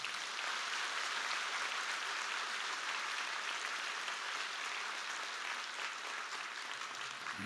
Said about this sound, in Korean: 우리 강주민 목사님 오실 때 은혜를 사모하는 마음으로 뜨거운 박수로 환영하도록 하겠습니다.